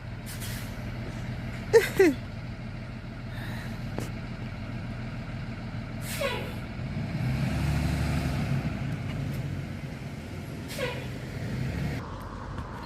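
A school bus pulls up with loud hissing air-brake bursts over a low idling diesel engine, the hiss repeating several times as it settles near a house.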